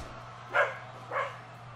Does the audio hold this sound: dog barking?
yes